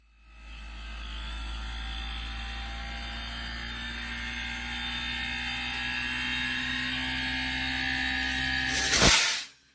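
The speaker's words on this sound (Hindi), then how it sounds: "ये हाई आरपीएम पे कंप्रेसर इसका चला गया है।" An air-conditioner compressor motor runs at high RPM, a steady, close whine with a deep hum beneath it that holds evenly before swelling briefly and cutting off abruptly near the end.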